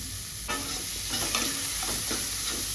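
Onions drop into hot oil in a pan with a sudden sizzle, then steady frying hiss continues as a spoon stirs and scrapes in repeated strokes.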